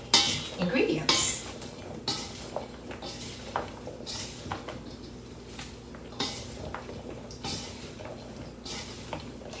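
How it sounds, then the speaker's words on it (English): Greek salad dressed with white wine vinegar is stirred in a bowl with a utensil, giving repeated close clinks and scrapes against the bowl in an uneven rhythm, loudest at the start, with no talking. "I'm going to give it a little bit of a stir to get that vinegar on all the ingredients."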